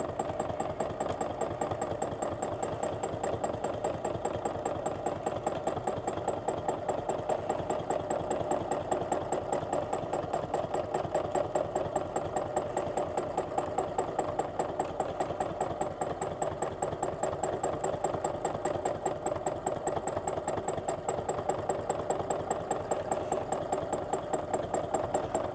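A sewing machine stitches a free motion all-over swirl meander quilt, running as a steady, close, rapid mechanical whir with a fine even needle pulse throughout, alone and with no talking.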